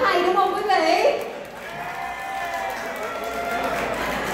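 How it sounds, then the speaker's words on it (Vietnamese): Guests at a wedding reception break into applause after a voice on a microphone, a broad, crowd-wide wash of clapping that carries on steadily for several seconds. "quý vị có thể nào cho xem một tràng pháo tay quá hay đúng không quý vị?"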